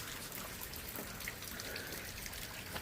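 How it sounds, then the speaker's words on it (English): Heavy rain pours down steadily in a continuous dense hiss, close and even throughout with no voices. "we're back in borderline just downpouring rain"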